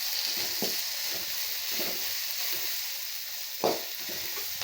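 Red poha upma base sautéing in a pan, a steady broad sizzle of frying with soft stirring scrapes recurring every second or so, one sharper stir near the end, close and continuous with no talk.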